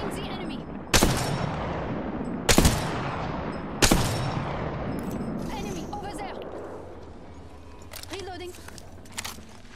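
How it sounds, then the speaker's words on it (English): Three loud, sharp gunshots in the battle royale game Apex Legends crack about a second apart, each with a fading tail, followed by quieter scattered shots and game sounds while a voice speaks. "Getting shot at."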